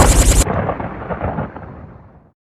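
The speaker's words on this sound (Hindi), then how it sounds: "आसमान में काले बादल घिरे और मूसलाधार बारिश होने लगी" A thunderstorm with torrential rain: a loud, deep thunder rumble that rolls on and slowly fades away over about two seconds.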